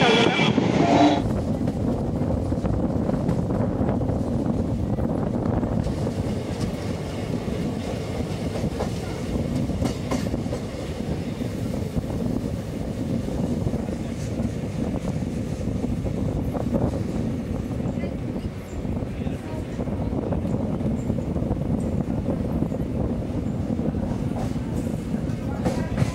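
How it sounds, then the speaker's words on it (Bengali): A train crosses a railway bridge near Bardhaman, a loud continuous rumble of rolling wagons with rhythmic clickety-clack from the wheels, heard steadily from close by with no talk. "এখানে একটা রেল যায়, মানে ট্রেন যায় ব্রিজের ওপর দিয়ে।"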